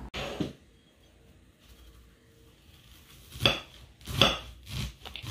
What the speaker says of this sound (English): Mom's slicing the barley path. She's slicing.